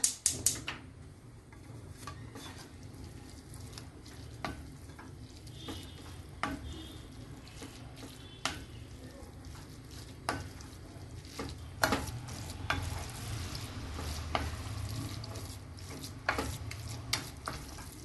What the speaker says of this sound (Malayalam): ഇനി തീ കത്തിച്ച് ഇത് ഇളക്കി വരട്ടിയെടുക്കാം.